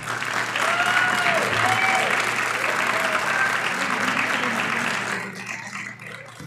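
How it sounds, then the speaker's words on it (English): Loud, sustained applause from the audience at the Belleville mayoral debate, dense and steady for about five seconds with faint voices and a few whoops mixed in, then quickly thinning out toward the end. "please hold your applause so that we can keep it moving"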